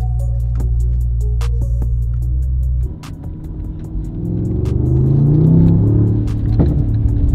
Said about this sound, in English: Let's take it for a spin and let's hear the Kline exhaust.